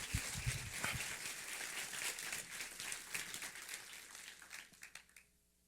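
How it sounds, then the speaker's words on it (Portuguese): Church congregation applause during a sermon, a fairly faint, continuous patter of many hands clapping that thins out and stops near the end. "Dá uma salva de palmas para Jesus aí."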